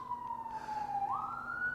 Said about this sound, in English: Funny, right as I'm reading that part, an ambulance is going by.